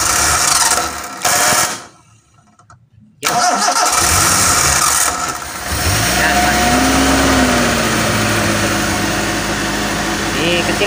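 A Suzuki Espass car converted to run on LPG cranks, sputters briefly and falls silent, then catches and settles into a loud, steady idle close by, with voices in the background.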